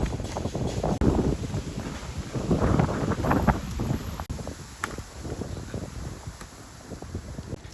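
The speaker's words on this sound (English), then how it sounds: "Can you hear how strong the wind is right now?" Strong wind on a mountain roars and buffets the microphone in heavy rumbling gusts, loud and continuous, easing somewhat toward the end.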